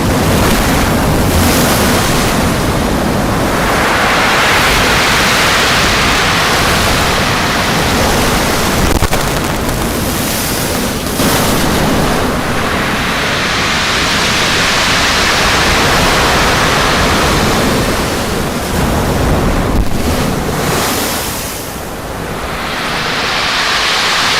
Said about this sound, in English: waves that sort of going through gravel, especially when they're sort of moving out again